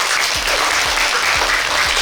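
A crowd applauding a child on a children's TV treasure game show, dense steady clapping that stays loud throughout the short stretch.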